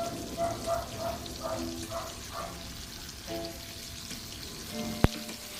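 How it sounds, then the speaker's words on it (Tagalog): Tofu (tokwa) frying in a pan gives a quiet, steady sizzle and crackle of oil with soft bubbling pops, plus a sharp tap near the end. "Hayaan lang natin siyang maprito hanggang yung kabilang side ang mag-golden brown."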